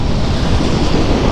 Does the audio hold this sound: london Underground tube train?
no